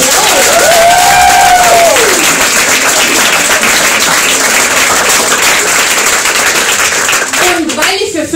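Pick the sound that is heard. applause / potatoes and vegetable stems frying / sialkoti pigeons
applause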